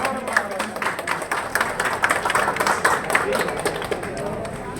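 An audience claps together at the opening of a Malabar Gold jewellery showroom, making a dense run of sharp claps that fills the space, with voices mixed in.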